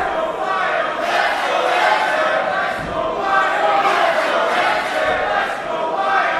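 A crowd at a 2018 Hotter than Hell final wrestling match cheers in a steady, loud roar that rises and falls without a break.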